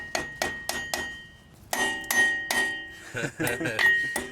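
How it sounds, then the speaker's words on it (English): Light metal taps of a hammer seating a grease cap onto a boat trailer wheel hub, about a dozen sharp close clinks in an uneven rhythm with brief pauses between them. "just ever so lightly tapping your grease kit"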